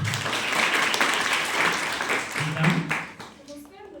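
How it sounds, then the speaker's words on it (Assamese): A school audience breaks into applause, a dense wash of clapping that swells and then tapers off, with a voice speaking near the end. "তাইৰ কাৰণে এটা হাত চাপৰি দিব পাৰোঁনে?"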